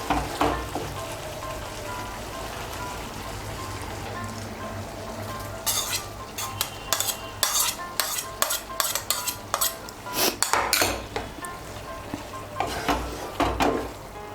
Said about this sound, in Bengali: ডিমটা ভালো করে মিশিয়ে নেব।